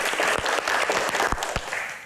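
Audience applause during a Q&A session with badminton champion Taufik Hidayat: a fairly loud, dense burst of clapping from a crowd, steady throughout with a few sharper claps standing out.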